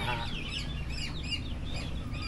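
A sick chicken calling loudly in a rural yard, a harsh honking, goose-like cry repeated several times close by over a steady background.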